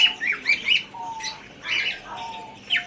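Budgerigars kept for sale squawk and chirp close by in a series of sharp, bright calls, several birds overlapping in short bursts with brief gaps between.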